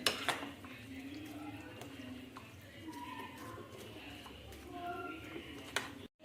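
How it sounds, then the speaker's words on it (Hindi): Chopped ingredients and apple for an iftar dish are mixed together, with light clinks and scraping of a spoon against a dish in a steady rhythm, while a voice speaks faintly in the background. "अब हम इन सब चीज़ों को अच्छी तरह से मिक्स कर लेंगे।"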